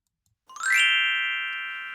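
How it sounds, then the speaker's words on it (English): A single glockenspiel chime struck once in a Christmas storytime setting, ringing out bright and clear, then sustaining and slowly fading as a steady metallic tone with no voices. "there is our Glockenspiel, which is our chimes that Sprinkles gives to us"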